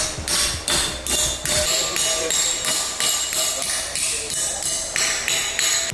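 Steady, evenly spaced hammer blows ring sharply on an aluminum plate for a switch panel, about two strikes a second, close and loud with a metallic clang.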